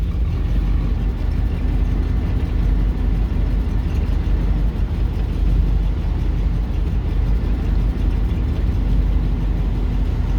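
An old Buick engine runs roughly with the lights and blower adding load, making a loud, continuous low rumble with an uneven shake and no voices over it.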